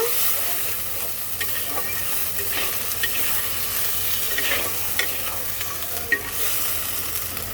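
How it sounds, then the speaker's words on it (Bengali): A spoonful of ginger paste and spices sizzles in a frying pan while being mixed, a constant bright hiss broken by soft scraping and occasional spoon taps, close up and without speech. "দিয়ে দেবো একটা চামচ আদা বাটা সব কিছু সুন্দর করে একসাথে মিক্সড করে দেব"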